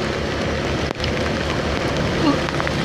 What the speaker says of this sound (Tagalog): Lakas ng ulan, ang lamig.